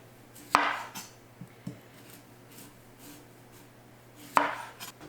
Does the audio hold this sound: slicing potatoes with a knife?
yes